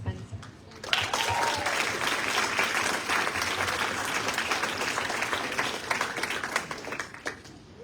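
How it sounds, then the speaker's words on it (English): An audience at a teacher awards ceremony breaks into sustained applause after a brief pause. The clapping is full and continuous for several seconds, then thins toward the end. "please give another round of applause"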